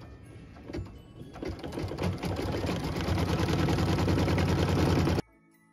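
An embroidery machine stitches a snowy design in white thread, its rapid, rhythmic needle chatter building in loudness and running steadily for about five seconds before cutting off sharply.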